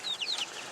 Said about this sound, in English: And here comes some of the chickens.